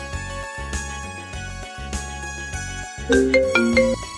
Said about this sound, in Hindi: तेरा फोन आ रहा है